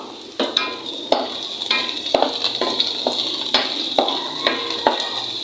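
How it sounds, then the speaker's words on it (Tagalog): Pork sizzles and spatters loudly in a hot pan, with repeated scraping strokes as it is stirred. "Sinod na natin itong ating pork para medyo maprito-prito siya ng konti."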